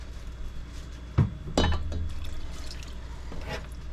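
Water and light corn syrup for cinnamon rock candy are poured into a pot, with a couple of clinking glass-on-metal knocks followed by soft splashing and trickling, quiet and close.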